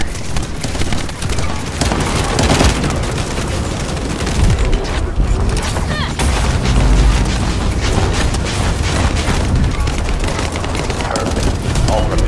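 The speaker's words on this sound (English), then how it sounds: "Let's blow him up instead of the digger." Explosions and gunfire in the video game The First Descendant, a dense, loud barrage of booms and rapid shots that continues throughout, with heavy low-end blasts rolling under the fire.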